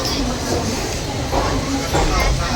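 A long-distance train bound for Sainagar Shirdi pulls out of Dadar station in Mumbai, with a continuous low rumble and rattle of rolling carriages beneath nearby chatter.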